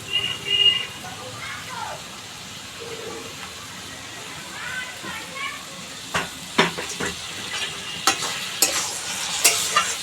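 A spoon stirs chicken curry with fried eggs in a pan, scraping and clattering over a soft, steady sizzle, with sharper knocks against the pan toward the end and faint voices in the background.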